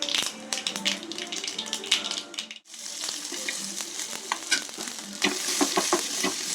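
Steady sizzling of onions with mustard seeds and urad dal frying in oil in a pan, with frequent metal spoon clatters and stirring scrapes, close by, a voice speaking briefly over it.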